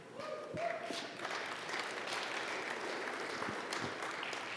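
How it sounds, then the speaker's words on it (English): Modest church audience clapping after a reading of Revelation 1:18, a thin, steady patter of scattered claps at moderate distance, lasting several seconds. "That was like such a New England clap for reading Revelation 1 verse 18."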